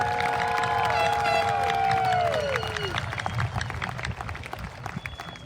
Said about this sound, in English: Please join me in another round of applause for our AA graduates.